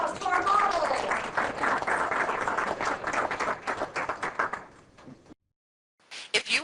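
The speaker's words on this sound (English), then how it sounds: "Give everybody a round of applause for our model." An audience claps for a volunteer model, steady and full for several seconds, then thinning and fading out before a brief resumption of sound.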